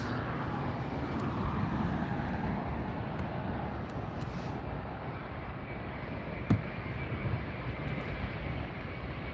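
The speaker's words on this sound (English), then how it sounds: "Looks like a Dreamliner to me." A Boeing 787 Dreamliner airliner at LAX airport makes a distant, steady engine rumble with a faint even hiss throughout, broken by a brief knock near the middle.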